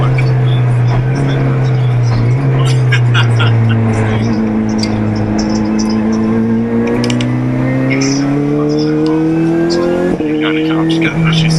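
A race car, number 62, running at Brands Hatch in a trophy championship: a loud, close engine drone with a rising, slightly wavering pitch held for the whole stretch, one sharp blip of revs near the end.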